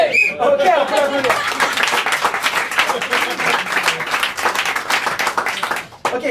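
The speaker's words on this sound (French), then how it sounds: "Ok, on peut l'applaudir." Audience applause at an improv theatre show, steady dense clapping filling the room for about six seconds with a brief voice at the start, fading just before the end.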